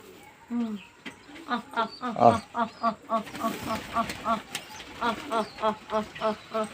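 Pigeons gathered for feeding give a steady run of close, rhythmic calls and coos, repeating roughly every third of a second over a low background, with voices mixed in.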